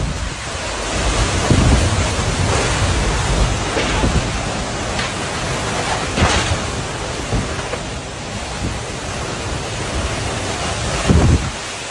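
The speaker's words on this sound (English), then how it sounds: "a super intense tornado went past this guy's house in Illinois." An intense tornado storm sweeps past a house in Illinois, giving a continuous roaring wash of wind and rain with several heavy low rumbles and bursts, loud and close throughout.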